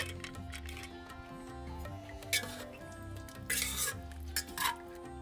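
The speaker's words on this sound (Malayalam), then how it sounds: "പ്രഷർ കുക്കറിൻ്റെ ആവിയെല്ലാം പോയി ഇത് തുറക്കുകയാണ്" A pressure cooker lid is opened after a Kerala black chickpea curry has cooked, with metallic clinks, scrapes and knocks of the lid and pot, close and moderately loud, alone without talk.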